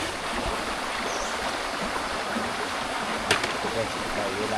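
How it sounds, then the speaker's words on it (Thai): Continuous gentle trickle and rush of a natural stream where villagers of a Ta Oi ethnic village in Savannakhet, Laos draw their drinking water, steady and close with no talking. "บ่ออันนี้คือสายน้ำที่ชาวบ้านตัก กินในแต่ละมื้อ"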